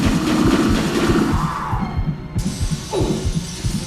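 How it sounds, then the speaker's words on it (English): In the MediEvil video game, a boss fires shards of glass at the player: a brittle shattering burst over a steady throbbing heartbeat pulse, followed by a descending sweep and another crackling impact, loud and close. "he uses his heart to shoot glass at you basically"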